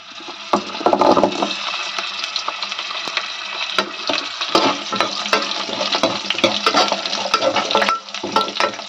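Onions and green chilies sautéing in oil for a garfish curry, a steady broadband sizzle with frequent stirring scrapes and clicks, close and fairly loud throughout with no talk.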